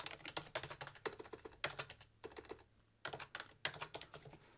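Typing on a computer keyboard in quick bursts of clicky keystrokes separated by short pauses, close and fairly quiet, with no talking.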